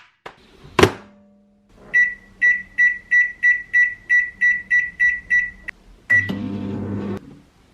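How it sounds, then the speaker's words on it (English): A microwave door shuts, then a steady series of about a dozen evenly spaced beeps rings out, followed by a door clunk and rattling. "Shall we put it in the microwave?"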